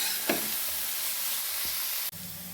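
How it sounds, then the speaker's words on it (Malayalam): Boiled banana stem sizzling and frying in hot oil in a pan, a steady close crackling hiss with a few brief clatters of stirring before the sizzle briefly drops out near the end. "വേവിച്ച് വെച്ച വാഴപ്പിണ്ടി ഇട്ട് കൊടുക്കാം. ഇത് ഇവിടെ കിടന്ന് ഫ്രൈ ആയി വരട്ടെ."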